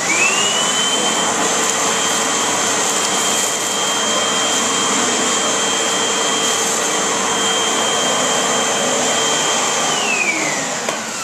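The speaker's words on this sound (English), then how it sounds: "I always find it really helpful to sweep first and then vacuum it all up." A Eureka AirSpeed vacuum cleaner runs steadily throughout, with a loud, constant motor whine and airflow roar, winding down near the end.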